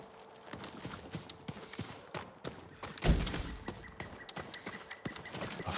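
In a video game, a farm horse's hooves clip-clop at a slow walk, with a heavier thump midway and light clattering around them.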